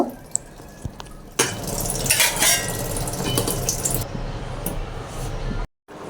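A few soft clinks of cookware come first, then a loud metallic clatter as a lid settles onto a pot of rui fish and cauliflower curry, followed by steady bubbling and hissing from the simmering pot.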